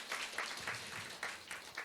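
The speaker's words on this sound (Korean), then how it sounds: "우리 박수로 한번 쳐드리겠습니다." A church congregation claps together in a steady, fairly quiet round of applause with rhythmic swells and no voices over it.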